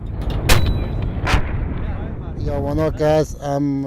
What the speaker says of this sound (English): Afghan National Army soldiers are getting to grips with a new weapon, a 60mm mortar